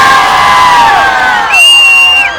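A large crowd at a cultural festival cheers and shouts loudly and continuously, with whoops and high yells rising over the steady roar of many voices.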